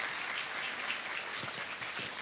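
Church congregation applauding, a faint steady patter of many hands clapping at a distance, with no voices over it.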